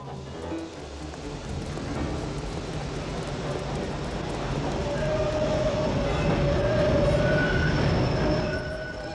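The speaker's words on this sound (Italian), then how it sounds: "Sono saliti tutti su un treno per Harlem e sono scesi sulla 116ª." A subway train on a line running toward Harlem rumbles steadily and grows louder, with a thin, sustained wheel squeal rising near the end. No voices are heard.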